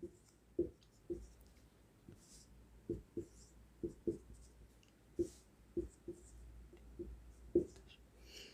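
Pen or chalk writing by a Hindi grammar teacher during a class, heard as a series of short, sharp scratchy strokes at irregular intervals, fairly close, over faint room noise with a soft voice now and then.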